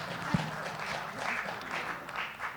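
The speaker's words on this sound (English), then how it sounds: "round of applause" Applause from an audience at a press conference, a fairly quiet, diffuse spatter of clapping that carries on evenly throughout with no speech over it.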